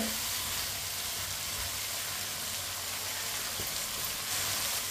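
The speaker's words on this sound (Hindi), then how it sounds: "दो मिनट के लिए मैंने पका लिया गोभी को चम्मच चलाते हुए।" Cauliflower frying in a pan and stirred with a spoon gives off a dense, steady sizzle that runs unbroken and fairly loud from start to end, with no voices over it.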